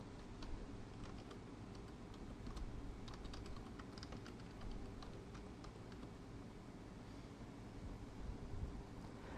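Steady typing on a computer keyboard, a continuous run of light clicking keystrokes throughout, close and fairly quiet over a faint background hum.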